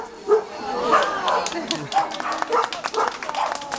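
A dog named Akila, entered at a dog show, gives short yips and barks, mixed in with people talking nearby.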